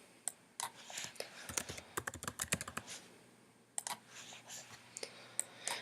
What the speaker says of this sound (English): then you can type in the names of the schools